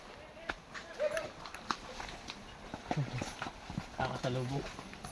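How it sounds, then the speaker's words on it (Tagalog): A horse walks nearby with scattered hoof clops on uneven ground, irregular and moderately faint, under people talking quietly outdoors. "Nandito na pala yung kabayo."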